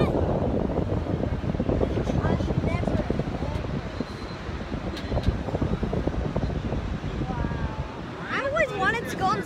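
Steady wind roaring past the microphone on a nighttime slingshot ride high above Disney Springs, a dense, continuous rush that stays loud throughout while excited voices talk and shout over it.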